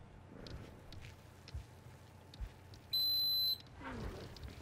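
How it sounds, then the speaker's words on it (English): A high electronic alarm tone in the video game The Last Guardian sounds once as a steady buzz for about half a second, clear above faint ambient noise and soft footstep-like thuds. "There goes the alarm again"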